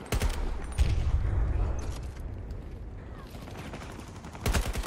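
Automatic rifle fire from a Battlefield 2042 match: a close burst of rapid shots opens, a heavier flurry follows, the action quiets, then another quick volley ends it.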